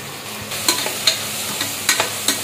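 Mint leaves sautéing in a hot pan, a low steady sizzle broken by several sharp stirring scrapes and clinks at irregular intervals, close up with no talking.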